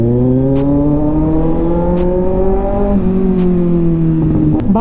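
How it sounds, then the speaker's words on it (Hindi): Motorcycle with a new exhaust on a Panther bike, riding on the road after a crash repair, a loud, steady engine drone with the pitch sliding as it shifts, close and continuous. "bike is running so perfect now"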